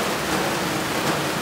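Steady rain falls in a Konkan village near Chiplun, Ratnagiri, a dense, even hiss of drops on surfaces that continues without a break for the whole short stretch, fairly close and uniform in loudness.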